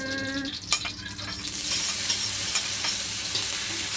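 Steady hissing sizzle of sausages frying in a pan, rising after a clatter and stirring scrapes, continuous and close.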